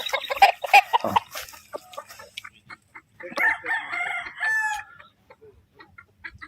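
Several gamefowl stag roosters crow in turn at a gamefarm, loud and near, with clucking and scattered farmyard noises between the calls.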